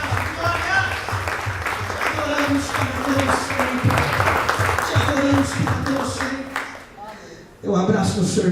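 A church congregation applauding during worship, with steady clapping under singing and voices for most of the clip, a brief dip near the end before the crowd noise returns.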